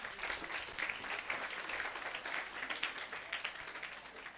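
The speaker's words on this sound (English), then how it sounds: "Please clap for him." Students in a classroom clap for a classmate, a short burst of brisk, uneven applause heard at low volume for a few seconds.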